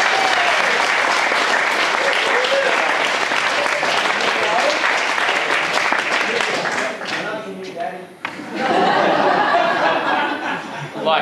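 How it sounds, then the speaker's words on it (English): Wedding reception guests break into loud, dense applause mixed with chatter and a little laughter, sustained for several seconds before briefly dipping and swelling again close by. "I think he deserves a round of applause for that."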